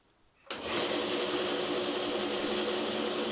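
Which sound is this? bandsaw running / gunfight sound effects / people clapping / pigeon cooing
bandsaw running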